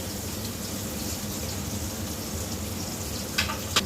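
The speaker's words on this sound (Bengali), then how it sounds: "মাছ ভাজা তেলের মধ্যে পেঁয়াজ দিয়ে দিচ্ছি।" Onions are added to oil left over from frying fish and sizzle steadily and evenly, with a couple of brief sharp clinks near the end.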